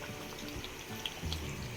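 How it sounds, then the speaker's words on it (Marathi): Water trickles and splashes briefly into a cooking pot, a short soft pouring sound with small drips. "मी थोडं पाणी टाकत आहे"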